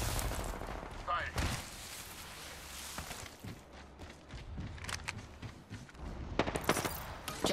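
Bursts of rapid gunfire from the Apex Legends video game, several sharp volleys near and loud over a busy, noisy game mix, with voices talking in between.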